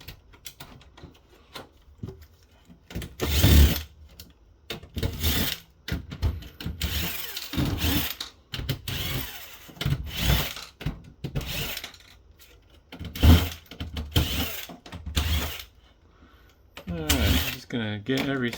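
Screws being removed from a Lenovo C460 all-in-one touchscreen PC during a teardown, with intermittent clicks, scrapes and brief whirs of a driver between bursts of nearby talking.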